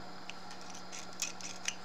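Scissors trimming a cured UV resin pendant piece made with alcohol ink, glass gems and dried flowers, giving a few faint, sharp snips spread over the moment against quiet room hum.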